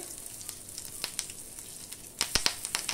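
Asafoetida hits hot oil for a Goan-style dal tempering, giving steady close sizzling and frying crackle that swells into sharper pops near the end.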